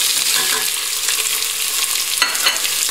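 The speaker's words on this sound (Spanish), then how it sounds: "metemos dentro cebolla" Onion hits hot oil in a pot and fries with a loud, close, continuous hiss and crackle, with occasional stirring scrapes and no talking.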